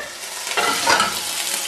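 Ginger frying in oil heated too hot on a stovetop, a loud, steady sizzle that rises and flares briefly midway, close and without speech.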